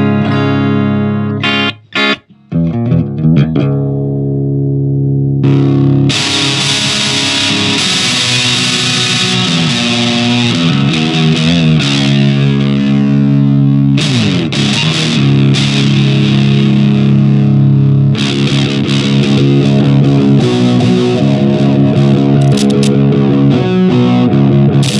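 An electric guitar plays through a Boss DS-1 distortion pedal. A few sharp picked notes open, then loud, heavily distorted chords ring out and sustain, with occasional breaks between strummed passages.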